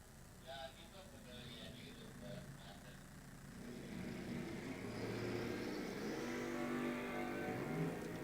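Drag race cars at a bracket-series strip, one of them a Mustang in the right lane, roar louder from about four seconds on as they launch and accelerate, a broad engine rumble under an announcer's voice.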